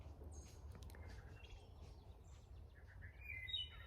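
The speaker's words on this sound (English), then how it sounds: "But the birds are very noisy." Small birds chirp and tweet in a wildflower grassland, several short high calls scattered over quiet background rustle, fairly faint and with no one speaking.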